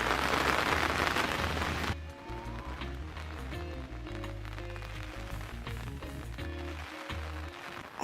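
Loud, dense rain hisses outdoors for the first two seconds, then drops to a softer patter and drip under a low, rumbling wind and droning background for the rest, no speech.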